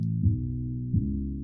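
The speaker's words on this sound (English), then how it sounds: "The first layer is this piano," Soft filtered piano layer from a future trance track, two muffled sustained chords struck about a second apart, dull and fairly quiet with no bright top; no talking.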